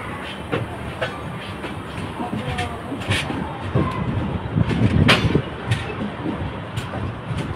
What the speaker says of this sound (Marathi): गाडी आता हळूच स्टेशनला येत आहे.